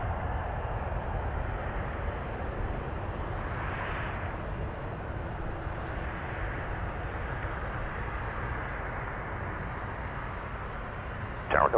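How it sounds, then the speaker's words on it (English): An Air Canada A330 airliner at Toronto Pearson Airport, a steady low engine rumble and roar that holds throughout from a distance, with no talking. "Air Canada A330 A330 to Rome."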